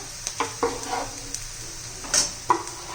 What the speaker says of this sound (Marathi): त्यात बारीक चिरलेला आपण टोमॅटो घालून घेऊया